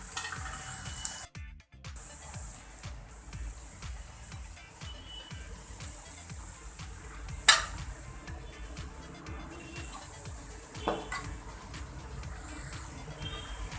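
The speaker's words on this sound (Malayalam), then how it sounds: "ശേഷം അതിലേക്ക് നമ്മൾ അരിഞ്ഞ് വെച്ചിരിക്കുന്ന സവാള ആഡ് ചെയ്ത് കൊടുക്കുക." Chopped onion sizzling in a pan for a Kerala-style chicken curry, a steady close frying hiss with occasional stirring scrapes and a clank, continuing for the whole stretch without talk.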